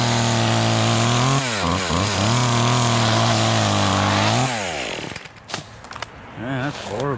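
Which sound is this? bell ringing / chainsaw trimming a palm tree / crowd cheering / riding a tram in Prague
chainsaw trimming a palm tree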